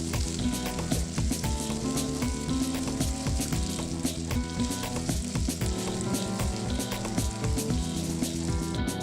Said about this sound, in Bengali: এবারে নেড়ে চেড়ে পেঁয়াজের সাথে আদা রসুন বাটা ভালো করে মিলিয়ে বেশ কিছুক্ষণ ভেজে নিব।